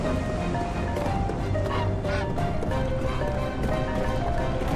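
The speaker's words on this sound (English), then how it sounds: "The swan is squawking too." A swan squawking in The Unfinished Swan, short honking fowl calls over a dense, busy game soundtrack with running and clattering effects.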